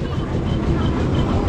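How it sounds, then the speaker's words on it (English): A small tram passing on a street in Mumbai, India, giving a steady loud rumble with low clattering close by throughout. "this is the small tram."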